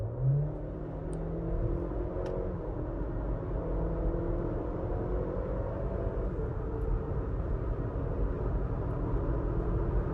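Cadillac car accelerating in sport mode from freeway pace, heard from inside as a steady low engine and road rumble with a faint rising tone, even and moderate in level, with no talking.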